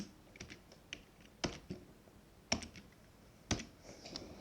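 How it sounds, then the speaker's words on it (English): Faint, scattered keystrokes on a computer keyboard tap out a few irregular clicks in a quiet room, heard alone without voices. "type in an administrator password"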